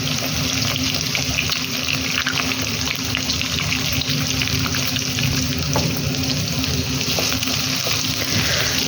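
Egg and capsicum fry in a pan with a steady, dense hiss and crackle that stays even throughout, close and fairly loud.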